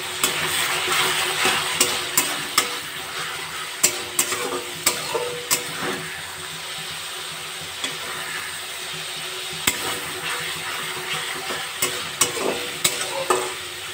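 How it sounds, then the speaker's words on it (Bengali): Spice paste for mixed ghugni sizzles steadily in a pan while a spatula scrapes and stirs it, with sharp knocks against the pan at irregular moments throughout. "যতক্ষণ না পর্যন্ত মশলা থেকে তেল বেরিয়ে যাচ্ছে, মশলাটা ভালো করে কষিয়ে নেব"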